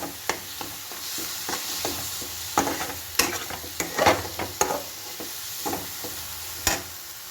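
Chicken masala frying in a kadai, with splashes of water added bit by bit, gives a steady sizzle broken by repeated scraping stirs and sharp clinks from the spoon. It is close and moderately loud, with no talking.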